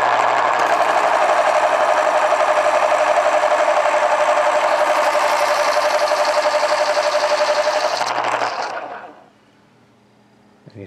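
A vintage Panasonic electric pencil sharpener runs with a steady, loud motorized whirring and buzzing tone for about eight seconds, then winds down and stops, leaving near silence.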